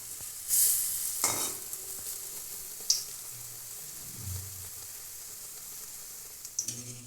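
A quiet, steady sizzle of eggplant fritters frying in oil, broken by a few sharp scrapes and clinks of a utensil against the pan.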